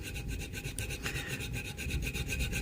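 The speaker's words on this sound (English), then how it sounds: "So I don't need to dig too particularly deep with this gouge." Steady rasping scrape of a gouge carving into wood, continuous and close, with no voices.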